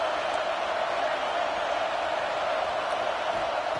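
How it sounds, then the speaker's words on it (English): A football stadium crowd roars in a steady, dense wash of noise as fans try to spur the defense to a red zone stop, loud and unbroken throughout. "And here comes the noise. This crowd is trying to inspire this defense to make a big red zone stop."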